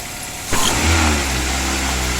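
Toyota Avanza engine revved during a tune-up, a steady mid-pitched hum that swells briefly with a throttle blip, then holds at a raised, even drone.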